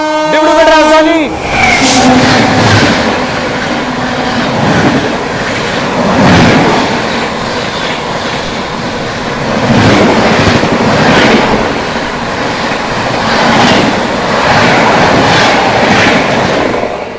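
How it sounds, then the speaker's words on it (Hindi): The 12423 Dibrugarh–New Delhi Rajdhani Express overtaking alongside: loud, continuous wheel rumble and rail clatter with periodic swells as coaches sweep past, opening with a brief horn-like tone. "पीछे से अपनी स्पेशल को ओवरटेक करने आती हुई 12423 डिब्रूगढ़ नई दिल्ली राजधानी एक्सप्रेस आती हुई"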